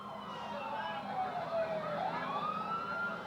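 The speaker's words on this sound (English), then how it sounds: "you could hear the sirens" Wailing emergency sirens sweep up and down in pitch, growing somewhat louder as they come closer over a low background rumble.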